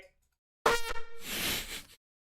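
An air horn blasts right into the microphone during a German gaming stream, one loud, brassy honk of a bit over a second that starts abruptly, wavers and then cuts off into silence.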